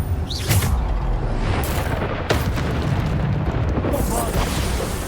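Bombarda spell blasts go off in Hogwarts Legacy, heavy booming explosions with crackling bursts rolling one into another at close range, loud and continuous.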